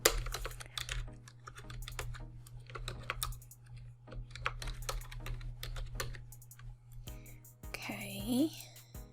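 Quick bursts of typing on a computer keyboard with irregular clicking keystrokes, close and fairly soft, while a person speaks quietly over part of it.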